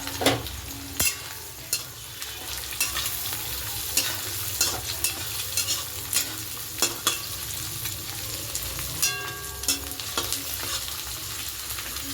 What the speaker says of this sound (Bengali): পেঁয়াজ লঙ্কা রসুনটা দিয়ে দিয়েছি একটু ভাজা ভাজা করে নিয়েছি এবার ডিমটাও দিয়ে দেবো